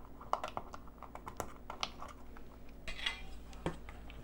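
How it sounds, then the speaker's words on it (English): A utensil mixes oil-free vegan pumpkin bread batter in a bowl, making a quick run of close, light clicks and taps against the bowl, with a few louder knocks and no talking. "We're going to go ahead and give that a mix."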